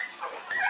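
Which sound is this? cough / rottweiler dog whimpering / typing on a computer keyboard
rottweiler dog whimpering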